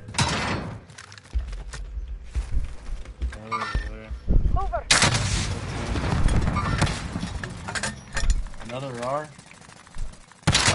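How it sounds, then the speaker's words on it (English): Rapid gunfire cracks and bursts from the video game Warzone, with sharp repeated shots and clatter in uneven clusters, loud and close, while players talk over the action. "I'm getting shot."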